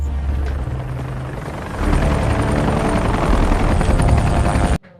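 A helicopter in a film scene drones loudly with a steady, thudding rotor that swells partway through, then cuts off abruptly at the end.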